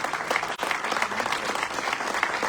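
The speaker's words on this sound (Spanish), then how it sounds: "Si ese aplauso es para esta palabra que se escucha." A church congregation applauds during a Spanish-language sermon with steady, dense clapping that fills the room and briefly drops out for a moment before resuming.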